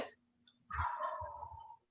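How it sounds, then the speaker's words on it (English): A single rapid, warbling gobble from a wild turkey, fairly faint and distant, lasting about a second in an otherwise quiet setting. "I don't know if you can hear the wild turkeys outside my door"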